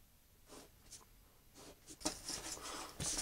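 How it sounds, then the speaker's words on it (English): Graphite pencil strokes scratch across drawing paper while darkening perspective box lines, followed by brisk rubbing of an eraser over guide lines; quiet, close, short bursts with no talking. "I'm just going to darken the line and erase some of these extraneous guiding line"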